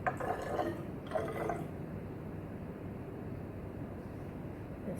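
Sodium thiosulfate solution poured into a measuring cylinder in a school lab, two short splashy bursts of liquid followed by a quieter steady trickle and room noise.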